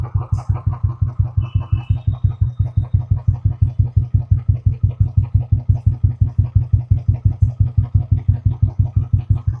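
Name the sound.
motorcycle engine idling after self-start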